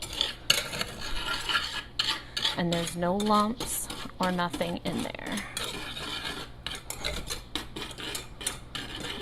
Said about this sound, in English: we're going to take a whisk and we're going to mix this up and make sure it's nice and smooth